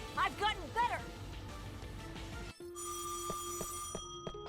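Telephone ringing in the video game Death end re;Quest 2, a steady electronic ring with repeated tonal pulses that starts midway, following a stretch of talk with game sounds.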